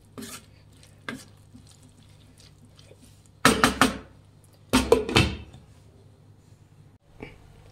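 Tomato gojju is stirred in a pot with a few loud scraping strokes in two short bursts, plus lighter scrapes and taps in between, over a low steady hum.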